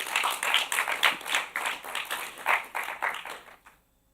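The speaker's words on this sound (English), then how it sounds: "Can we give a round of applause to the team that has made this or put this amazing work together?" An audience applauds at a live-streamed event, steady mixed clapping for nearly four seconds that tapers off into silence.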